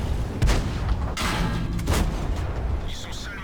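Tank cannon fire in the World of Tanks video game, several loud booming shots with rumbling decay during a live match, mixed under game ambience with a voice talking between blasts.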